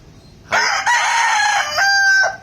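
A gamefowl broodstag rooster crows once, loud and close: a single drawn-out cock-a-doodle-doo with a strained, wavering tail, standing alone over quiet background.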